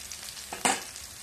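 Garlic browning in a pan gives a faint, soft sizzle, with one brief louder scrape of a spoon partway through.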